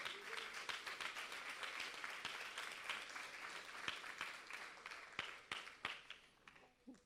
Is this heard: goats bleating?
no